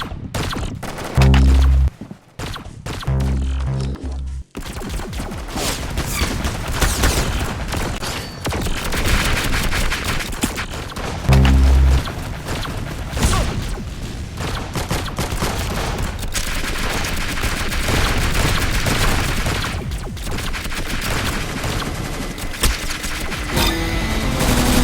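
Repeated gunfire in the video game Arsenal, with dense bursts of rapid shots and heavy booming blasts at the start. It carries on as steady, loud shooting throughout, with no talk.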